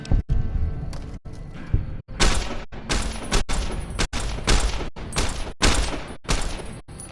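A rapid string of loud, close gunshots rings out at a shooting range in Fallout New Vegas, with about a dozen sharp cracks, each followed by a short echoing tail.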